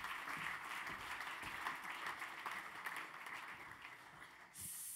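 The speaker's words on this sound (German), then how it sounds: "Mit Applaus natürlich." A crowd applauds steadily, a dense wash of clapping hands that fades slightly near the end.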